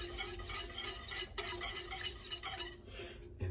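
A spoon stirs a pumpkin and apple soup mixture in a pot, a soft continuous scraping and swishing with faint clinks, close but quiet and without any talking.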